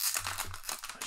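Brief crinkling and rustling of plastic packaging around LEGO Marvel minifigures, close and fairly quiet, with irregular crackles over about a second.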